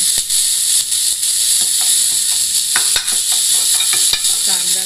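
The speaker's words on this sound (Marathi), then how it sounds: "कांदा थोडासा फ्राय करायचा आहे. थोडंसंच तेल घातलेलं आहे." Onion fries in a little oil with a loud, close, continuous hiss and sizzle, broken by occasional sharp clicks of a utensil against the pan.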